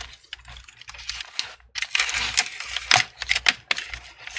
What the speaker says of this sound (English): I'll be using this metal prying tool, kind of running across the bezel to cut open that adhesive